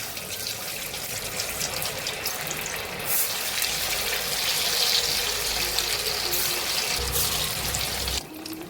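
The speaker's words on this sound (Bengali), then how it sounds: "এবার আমি একটা একটা করে সব ভেজে নেব।" Soybean muitha dumplings fry in hot oil, giving a dense, even, broadband sizzle that swells slightly midway and cuts off near the end, with no talking.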